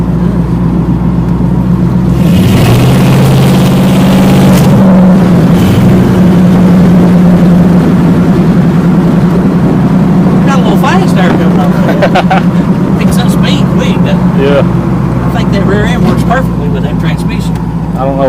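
A 1982 Chevy C-10 Silverado truck engine runs with a steady, loud, low rumble and a whining tone that rises and shifts partway through, while someone talks over it.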